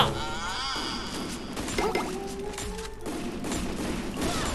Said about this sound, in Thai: แล้วเขายิงปรวดเลย